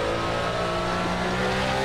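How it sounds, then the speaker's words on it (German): A Porsche GTE race car engine revs high in the racing game Assetto Corsa, a loud steady buzzing drone that holds throughout with no talk. "Nur mein Porsche hier, der dreht bis irgendwie 9000 oder so."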